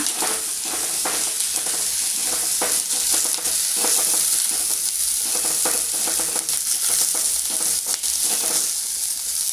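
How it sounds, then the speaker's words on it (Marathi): Chopped onion sautéing in a pan in a home kitchen, with a steady loud sizzle and repeated scraping stir strokes of a spatula throughout, no voices. "त्यामध्ये कांदा कट केलेला घालायचा कांदाही छान असा परतून घ्यायचा"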